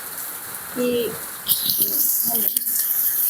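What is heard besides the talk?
heavy rain falling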